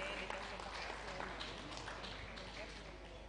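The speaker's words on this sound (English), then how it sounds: "Please, audience, give a very big applause to the keynote speaker." An audience at a live conference event applauds a keynote speaker, producing steady, dense clapping that fills the room without pause.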